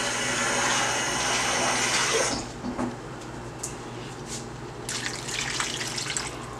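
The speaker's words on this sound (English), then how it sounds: "So let me add some water." Water pours into a cooking pan for gravy for pork chops, a loud rushing splash that stops after about two seconds, followed by quieter sizzling and clinks.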